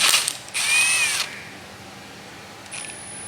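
A ratchet runs a rocker arm bolt down on an LS V8 engine: a short burst of fast clicking, close and clear, followed by near silence and a brief faint click near the end.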